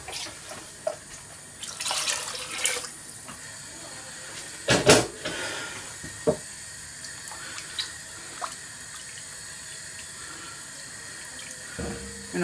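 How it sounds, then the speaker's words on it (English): Water poured into a casserole pot while cooking a creamy chicken, herb and vegetable casserole, a few short splashing bursts with a louder gush midway, no talking. "Then I'm going to add some water."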